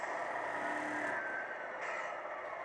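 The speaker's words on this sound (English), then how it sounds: "And then there's also the sound of the brake screeching" Simulated brake screech from a Tamiya multi-function sound unit on an RC truck: a quiet, steady high-pitched hiss and squeal lasting a couple of seconds, with a faint tonal whine fading out partway, no voices.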